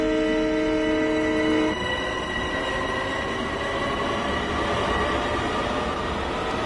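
In the Train Sim World 2 video game, an M7 train on the Long Island Rail Road pulls away at full power. A loud, steady horn chord sounds for about two seconds over a heavy, continuous rumble that carries on alone.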